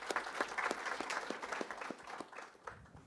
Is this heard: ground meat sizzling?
no